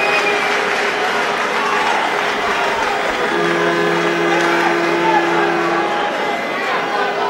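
A large crowd applauds at an amateur boxing bout between Amir Khan and a Cuban opponent, a dense, continuous roar of clapping and cheering that fills the whole stretch, with a sustained tone rising briefly midway.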